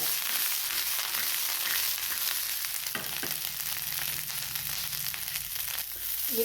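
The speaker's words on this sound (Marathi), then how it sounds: "या पॅनमध्ये आपण ही मिरची घालूयात भाजण्यासाठी." Green chillies roast in a hot pan for a spicy chilli thecha, giving a steady, even hiss with faint scraping close by. The sizzle runs without a break for the whole stretch, and no one speaks.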